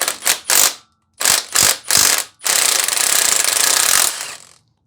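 A pneumatic impact wrench hammers at a bolt on a 1974 Datsun 260Z engine during teardown, firing in three short bursts, then three more, then one long sustained rattling run before it stops. The sound is loud and close, with no talk.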